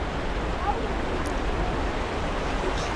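Water rushes steadily at the holy site of Baba Dhansar near Katra, a constant broadband flowing roar with no break and no audible speech.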